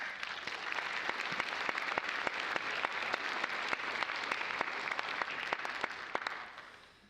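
A commencement audience at Missouri Southern State University applauds in a sustained, even wash of clapping with a few sharper claps on top, tapering off at the end.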